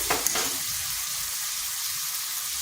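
Ground turmeric, cumin and coriander powders sizzle steadily in a hot pan with oil, a bright close frying hiss with a brief stir-scrape near the start, no voices.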